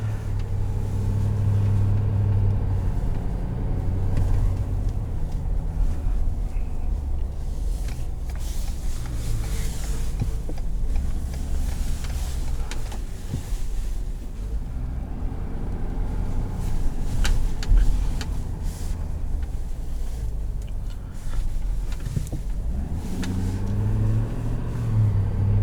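A 2020 Ford F-350 Lariat diesel pickup drives with its engine still cold, heard from inside the cab as a loud, steady low rumble with mild swells as it accelerates, no one talking.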